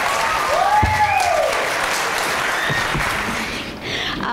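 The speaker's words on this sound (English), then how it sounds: "So one more round of applause," Sustained audience applause at a school spring concert, a dense, even round of clapping from a seated crowd, with a brief whistle rising over it near the start.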